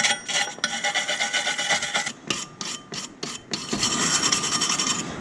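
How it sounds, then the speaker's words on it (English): Harsh rasping scrubbing of a wire brush on rusty metal, in bursts of back-and-forth strokes with short pauses, close and loud. "A bit of preparation, a bit of wire brush action,"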